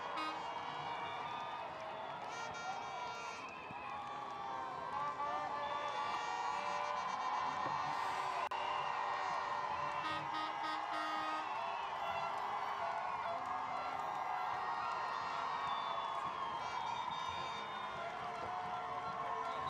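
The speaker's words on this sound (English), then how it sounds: "the bigger the crowds, the bigger the noise" Large crowds cheer, whoop and applaud as a sailor arrives at the Vendée Globe finish in Les Sables d'Olonne, a dense, continuous roar that stays loud and steady throughout, with scattered shouts rising above it.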